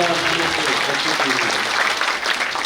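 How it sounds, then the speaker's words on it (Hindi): Loud audience applause at an inauguration cultural program, a dense, continuous roar of clapping from a big crowd filling the whole short stretch with no break. "जोरदार तालियां भाई"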